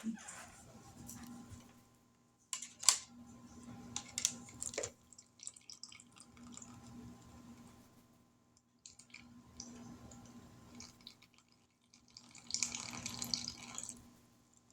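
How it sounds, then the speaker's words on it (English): Canned mandarin orange juice drains through a small handheld strainer in soft, close trickles and drips, coming in intermittent bursts separated by quiet pauses. "We're going to drain the juice. I need my little strainer, doohickey."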